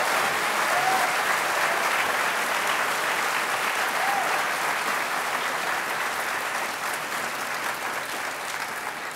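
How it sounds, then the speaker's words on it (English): Sustained applause from a large crowd at a PAX 2014 convention panel, dense and even clapping that carries on throughout before easing slightly near the end. "please give them a big round of applause."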